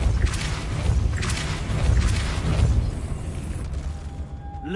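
Depulso force-push spell in the video game Hogwarts Legacy, a few whooshing bursts with low booming rumble over game ambience, fading out toward the end.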